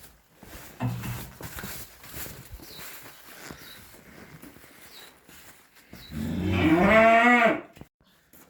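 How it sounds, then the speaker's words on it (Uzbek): A black dairy cow on a farm gives one long, loud moo near the end, preceded by quieter shuffling and faint background noise. "Qora sigirimiz bor mana."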